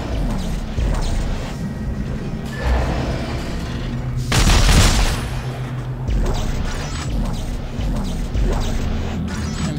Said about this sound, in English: I'm starting to like this gun.